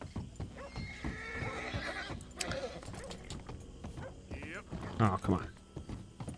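Horse neighs and clip-clopping hooves in a video game, a loud whinny standing out near the end over steady hoof beats, with a person talking throughout.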